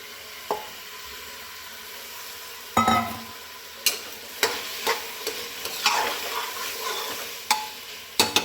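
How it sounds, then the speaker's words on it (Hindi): Potatoes and eggplant sizzle and fry in spices in a pan while a utensil stirs and scrapes through them, with several sharp clatters over steady crackling. "अब इसमें हम डाल देंगे अपने कटे हुए आलू और बैंगन।"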